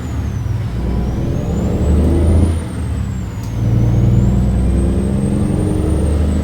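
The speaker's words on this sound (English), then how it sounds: "And then here comes a truck." A truck rolls past in American Truck Simulator on a Kansas route toward Phillipsburg, a loud, steady low diesel rumble that swells and eases with a faint high whine above it.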